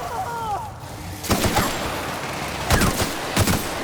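Rifle gunfire in the video game The Outer Worlds during a fight with a Mantisaur Queen, several sharp shots in quick clusters with crackling impacts, loud and close, over faint game ambience.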